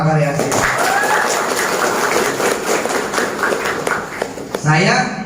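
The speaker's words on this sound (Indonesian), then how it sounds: "Tepuk tangan buat Mahakarya." An audience claps steadily for Mahakarya at a motivational business talk in Palembang, a dense continuous patter that builds and fades, with a voice speaking at the start and again as the clapping dies away at the end.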